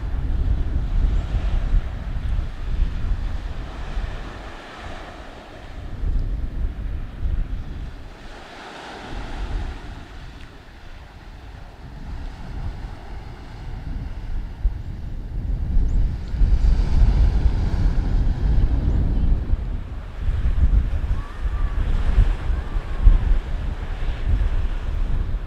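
Strong gusting wind buffets the microphone in a steady, loud roar, with crashing surf beneath it and no voices, at Worbarrow Bay beach in Dorset.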